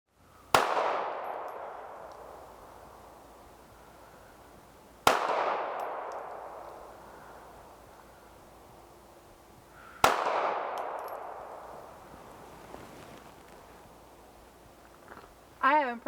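Three loud, sharp gunshots from a Ruger Security 380 Lite pistol at a shooting range ring out about five seconds apart, each with a ringing metallic decay, followed by a brief faint voice at the end.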